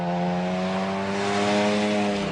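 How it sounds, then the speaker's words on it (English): Xenos E10S race car with a turbo engine driving at speed, a loud sustained steady engine drone running throughout without talk. "Listen to the turbo engine suck and blow, hiss, pop, bang."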